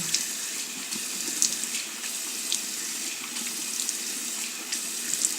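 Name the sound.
water running while rinsing face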